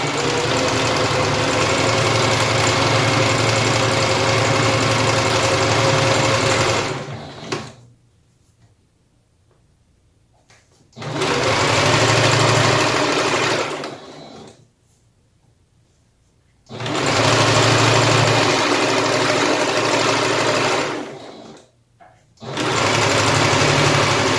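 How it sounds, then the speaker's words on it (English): A sewing machine stitching slowly through a thick fabric mask, running in three long steady whirring bursts separated by quiet pauses, loud and close. "Once you're past the mask, just keep folding this and keep stitching straight down."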